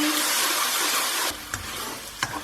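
Chicken jalfrezi with tomato puree being stirred in a sizzling pan, a loud hissing fry that drops abruptly halfway, followed by quieter sizzling with a couple of spoon scrapes and clinks.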